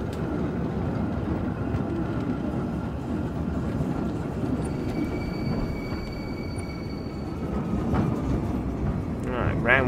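A double tram rolls along city rails in the Tram Simulator Urban Transit game, giving a steady rumbling clatter with faint thin wheel squeals and a brief bell-like chime near the end.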